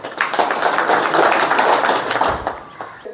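A room of attendees at an agarwood farming presentation in Odisha claps enthusiastically, loud dense applause sustained for about three seconds and fading slightly at the close.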